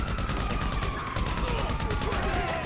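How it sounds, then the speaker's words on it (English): Rapid, continuous automatic gunfire in the video game GTA 5, a steady stream of closely spaced shots running throughout at moderate loudness. "I'm just gonna shoot until we die."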